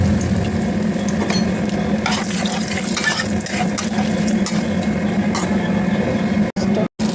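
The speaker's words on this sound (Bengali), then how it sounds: "আমি তেলেতে গোটা গরম মশলাটা দিয়ে দেবো, তেজপাতা দিয়ে দেবো" Whole garam masala, bay leaf and cumin hit hot oil for chitol fish rosha, raising a continuous close hiss and crackle with light utensil clatter against the pan.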